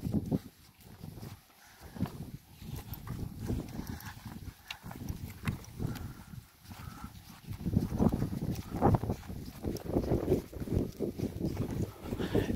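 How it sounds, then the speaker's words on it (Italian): Hooves clip-clop on the ground as horses walk along a pilgrimage trail near San Vero Milis, Sardinia, irregular footfalls growing louder in the second half over a windy outdoor background. "E anche il cammino che fa Paola con i cavalli."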